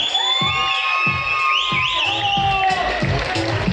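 A lively crowd cheers and whistles at a Marathi TV serial star's baby-shower celebration, with sustained loud shouts, whooping and rising whistles, plus rhythmic thumping beneath, close and continuous.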